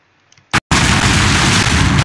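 Rockets explode in the Warcraft III custom map X Hero Siege: a short pop, then a loud, dense, roaring blast that holds steady for over a second before ending abruptly.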